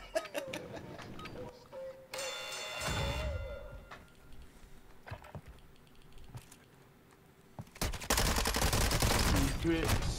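Gunfire crackles in the Warzone 2.0 video game, with scattered bursts and single shots, then a dense rapid volley near the end, mixed with keyboard clatter and brief voices.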